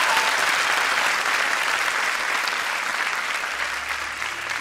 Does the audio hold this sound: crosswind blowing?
no